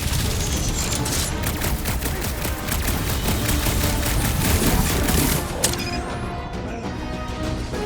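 Sustained gunfire rattles through a firefight in Marvel's Guardians of the Galaxy, dense rapid bursts and impacts filling the mix without a break, followed by a sharp crash near the end.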